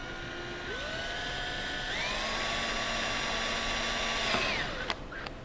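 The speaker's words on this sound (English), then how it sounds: "I'm going to use a cordless. And we'll just go ahead and drill through the upper hole first." Cordless drill with a 3/16 bit boring a mounting hole, a close whining motor that holds a steady pitch, rises once and winds down near the end with a couple of clicks.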